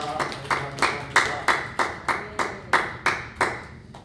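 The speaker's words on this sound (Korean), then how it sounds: "우리 하나님께 영광의 박수를 올려드리겠습니다" A church congregation at a Wednesday service claps in unison, about a dozen crisp, evenly spaced claps in a steady rhythm, moderately loud and with no speech over them.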